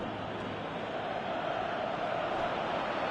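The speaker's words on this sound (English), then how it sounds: "you can hear how the crowd are reacting to this too" A steady stadium crowd roars and murmurs continuously in the football video game PES 2018, a dense, even wash of noise with no breaks.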